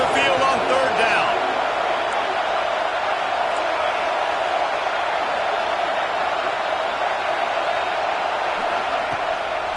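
Home crowd noise in a college football video game, a loud dense roar that holds steady throughout, with no break in the wall of sound.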